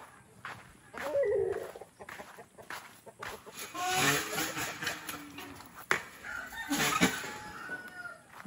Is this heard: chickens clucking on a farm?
yes